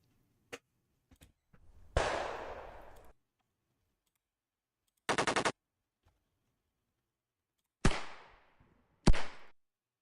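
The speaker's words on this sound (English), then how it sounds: "I'm gonna do gunshots." Sharp, isolated bursts of video game gunfire: single cracks, then a rapid automatic rattle and a few loud reverberant shots with pauses of silence between.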